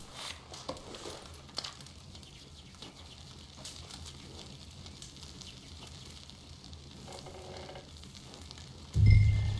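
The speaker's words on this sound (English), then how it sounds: "Cook that rabbit, then. They're delicious on an open fire like this." Rabbit cooking over an open campfire in Red Dead Redemption 2: a soft, steady crackle and sizzle with a few louder pops, low and even, ending in a sudden low rumble.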